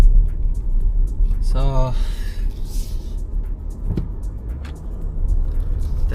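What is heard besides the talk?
VW Touareg R-Line SUV driving onto main road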